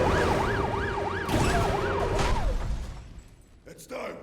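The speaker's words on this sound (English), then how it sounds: "An ambulance carrying a bunch of kids is coming" A wailing ambulance siren in the Modern Warfare 3 campaign sweeps up and down in steady cycles amid game ambience, then cuts off abruptly, leaving quieter scattered effects and a brief crash.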